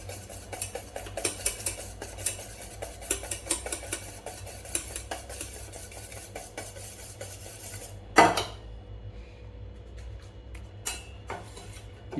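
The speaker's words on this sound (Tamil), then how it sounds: "இந்த பட்டரை கொஞ்சம் நல்லா விஸ்க் வச்சு" A whisk scrapes and clinks steadily against a bowl as butter is beaten for butter biscuits, with rapid rhythmic taps. Near the end comes a louder clank, then quieter handling.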